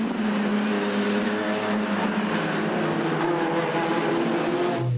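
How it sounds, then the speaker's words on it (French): Racing cars roar away from the start at Dijon-Prenois, heard from inside a Renault Clio 3 race car, with a steady loud engine drone and rising harmonic tones as the pack accelerates, continuous throughout. "Un envol que l'on revit depuis l'habitacle de la Renault Clio 3 de Claudie Tang et Vincent Van den Abel"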